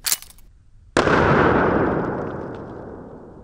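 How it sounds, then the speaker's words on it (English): A 12-gauge shotgun slug hitting its target outdoors: a brief crack, then a single loud, sharp boom that decays slowly over a few seconds. "I could hear the bullet impact"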